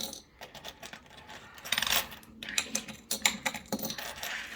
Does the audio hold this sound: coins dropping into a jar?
yes